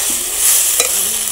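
Peeled, pre-fried shrimp are stirred into a cooked spice paste in a frying pan. A close, loud sizzle runs throughout while a spatula scrapes and stirs, with one sharper clack partway through.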